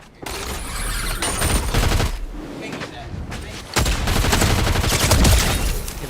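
Heavy gunfire in a video game, loud and close, dense sustained volleys in two long stretches separated by a brief lull, with a voice talking underneath.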